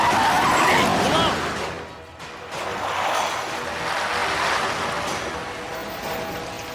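Car swinging around with a skidding tire screech in a dubbed action movie scene, loud at first then settling into a broad rushing roar.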